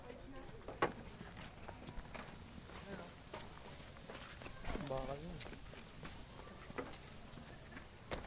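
Horse hooves clip-clop on the ground at a picnic grove, a light, irregular patter set against loud cricket chirping, with a person's voice speaking briefly in the middle.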